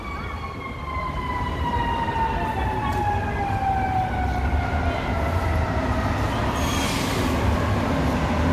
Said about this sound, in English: now we hear some sirens